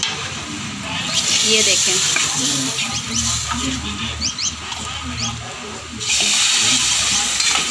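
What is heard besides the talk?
tempering spices (tadka) sizzling for karhi pakora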